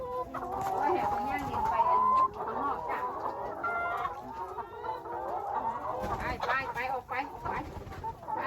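Chickens cluck and squawk steadily as a flock is let out of the coop. Some hens are laying and a few are unwell. Someone talks over the birds throughout.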